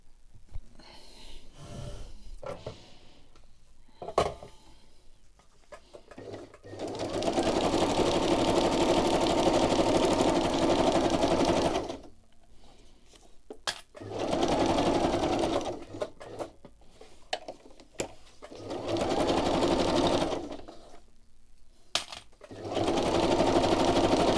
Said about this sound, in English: So I'm going to stitch that. Zigzag it.